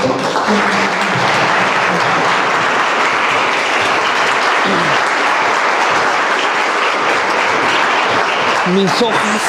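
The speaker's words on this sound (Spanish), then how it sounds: "Recibimos con un fuerte aplauso al doctor Marco Antonio Porrico." Loud, dense applause from a conference audience welcoming a speaker fills the whole stretch without a break, with a few faint voices mixed into the clapping.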